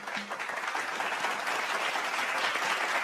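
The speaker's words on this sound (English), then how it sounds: "A round of applause for him." Audience applause welcoming a speaker onto the stage at the Texcellence 2025 conference, a steady, dense wash of clapping from a sizeable crowd that holds level for the full three seconds.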